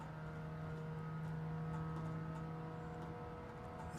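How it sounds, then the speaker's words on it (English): Modded Toyota Prius with a CVT transmission in the video game Grand Theft Auto, a steady droning engine hum with a constant whirring tone, held at one pitch without gear changes. "So it has a CVT, continuous variable transmission, which basically makes the car sound like a Hoover."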